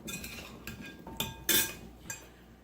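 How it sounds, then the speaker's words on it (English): Seasoned rutabaga tossed with thyme, pepper and salt in a bowl, giving several sharp utensil clinks and scrapes against the dish, one louder clatter near the middle, close and fairly quiet with no talking. "Give this a good mix."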